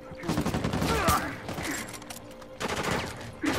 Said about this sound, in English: Maintain suppressive fire!